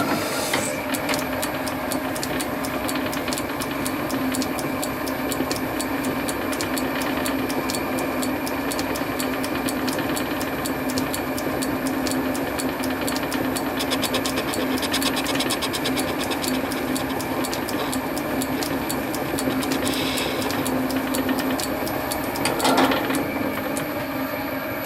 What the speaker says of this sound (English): Now I'm going to take a skim cut off the top just to polish it up.